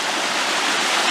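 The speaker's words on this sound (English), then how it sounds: "Look how fast the water is here." Fast white water rushing over several river sills on a small river, a loud, continuous close roar that stays steady and fills the whole moment with no voices.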